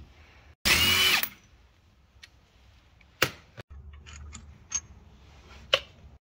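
A power tool whirs once in a loud, brief burst while removing a brake caliper screw on a coaster motorhome, followed by a few sharp metallic clicks and taps nearby.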